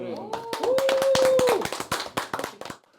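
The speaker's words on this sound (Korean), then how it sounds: "신년 초에 우리 저희 박수 한번 하고" A handful of talk-show hosts clap together at a New Year broadcast, a short burst of distinct, close claps mixed with voices, thinning into a few scattered claps at the end.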